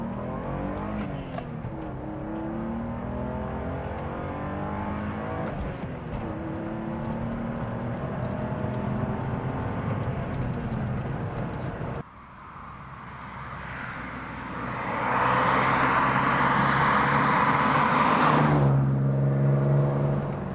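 A BMW M635CSI six-cylinder engine revs and accelerates hard, its pitch climbing steadily through the gears, then a shift and a louder, fuller roar near the end.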